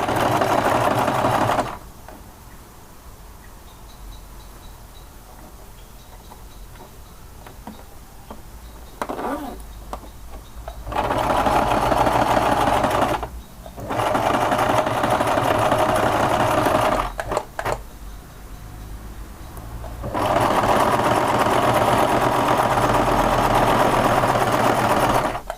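Sewing machine stitching a seam around the edge of a fabric pouch, a rapid mechanical whirring that runs in bursts with quiet pauses between them as the fabric is repositioned, close and clear.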